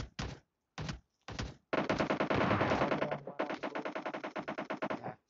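Submachine gun fire in the PUBG video game: short bursts, then a long sustained rapid string of shots, loud and close, with no talking over it.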